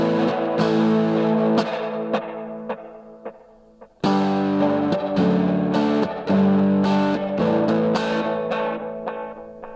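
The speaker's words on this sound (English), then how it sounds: "Let's add a little simple analog delay." An overdriven electric guitar played through a spring reverb and a simple mono analog delay feeding both amps, with strummed chords and picked notes ringing out, each attack trailed by repeating echoes, close and loud with a short pause midway.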